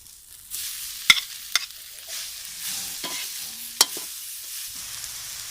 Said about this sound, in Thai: ผัดพริกแกงหอม ๆครับ แล้วก็ใส่เนื้อปลาไหลตามลงไปครับ